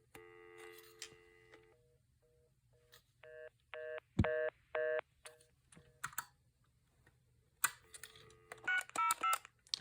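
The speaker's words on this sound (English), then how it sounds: "The touch tones are louder on the lower setting." An iSoHo corded phone keypad sounds a series of short touch-tone beeps in uneven bursts, mixed with plastic button clicks and handling noise.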